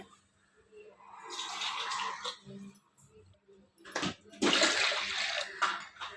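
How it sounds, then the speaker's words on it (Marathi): Water from a glass pours into a pressure cooker holding dal, two separate gushing pours with a short pause between them, close and fairly loud, ending with a splashing second pour. "इथे मी 2 ग्लास पाणी टाकते."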